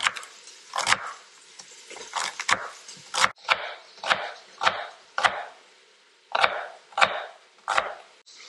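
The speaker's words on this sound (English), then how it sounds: "we're also going to take 4 celery and give them a chop." A knife chops four celery stalks on a cutting board in a home kitchen, with a steady series of close, sharp, loud thunks in an uneven rhythm and a brief pause partway through.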